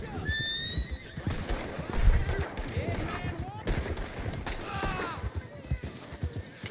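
Scattered gunshots ring out in a town in Red Dead Redemption 2, mixed with horse whinnies, clip-clopping hooves and background chatter, several sharp bursts over a steady busy din.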